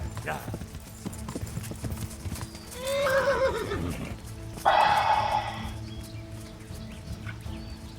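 A horse in Kingdom Come: Deliverance whinnies twice over steady clip-clopping hooves, the second neigh sharper and louder, with a voice speaking in between.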